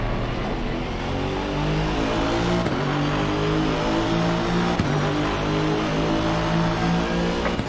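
Race cars, including a McLaren and a Lamborghini, scream around a track in a sim racing game, with loud continuous engine whine rising and falling through gear shifts.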